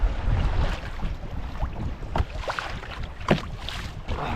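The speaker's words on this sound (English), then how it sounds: "So the wind is up and down at the moment." Gusty wind buffeting the microphone on a canoe trip at Kylesku, a broad rumbling rush swelling and easing, with faint splashes and knocks of paddling underneath.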